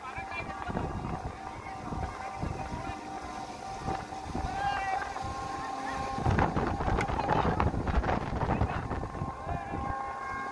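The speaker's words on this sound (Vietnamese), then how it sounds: "Gió quẩn quá." Strong, gusting wind buffets the microphone outdoors in a field, a continuous roaring rumble that swells louder toward the end, with people talking under the noise.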